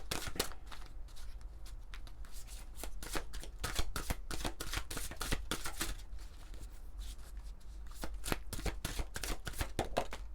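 Tarot cards are shuffled and drawn close up, a dense run of crisp riffling flicks and slaps continuing steadily without speech.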